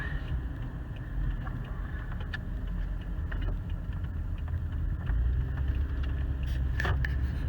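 Car driving through downtown Paterson, a steady low engine and road rumble heard from inside the cabin, with faint ticking and no talking.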